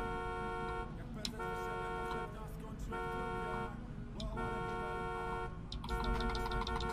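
A police car horn honks repeatedly in a GTA RP video game, steady sustained blasts in several bursts over a continuous engine-like hum, with voices talking intermittently underneath.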